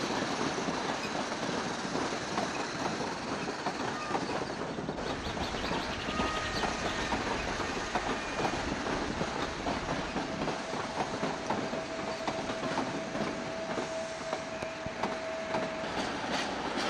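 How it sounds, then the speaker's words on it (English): Class 47 diesel locomotive on a push-pull service from Glasgow Queen Street, rolling past with steady dense rumble and continuous clickety-clack of wheels over rail joints, a faint squeal tone toward the end, no voices. "Class 47-7 arrives with another push-pull service from Glasgow Queen Street."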